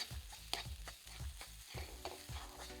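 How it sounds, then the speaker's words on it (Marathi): Semolina and grated coconut being roasted in a pan for laddoos, soft repeated scraping stirs of a spoon with a faint dry sizzle, quiet and close, no voices. "आपला रवा आता बदामी रंगावर भाजलाय आपण। आता आपण यात अर्धी वाटी एवढा खोबऱ्याचा किस टाकायचा आहे"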